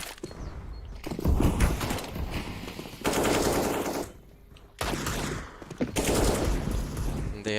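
Rifle fire from a CS:GO tournament match: loud bursts of automatic shots in several volleys with short pauses between them, with faint voices underneath.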